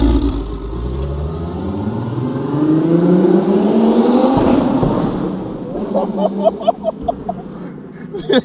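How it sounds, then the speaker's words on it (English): A powerful turbocharged R36 hot hatch engine revs up with a rising roar, then drops off into sharp crackling pops as the throttle lifts, loud and close. "Thing sounds like an actual drag car."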